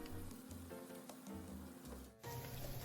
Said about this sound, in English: Once the oil is hot, you could add in all the shrimps.